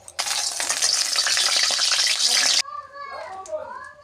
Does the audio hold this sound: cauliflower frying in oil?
yes